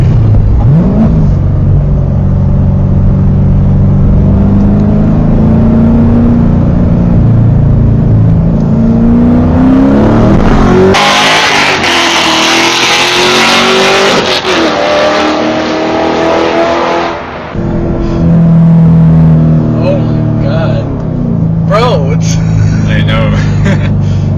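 A catless C7 Corvette Stingray in track mode with no mufflers, accelerating from first gear: a loud, rasping exhaust roar that climbs through the revs for most of the clip, with a brief harsher burst in the middle and a voice talking over it.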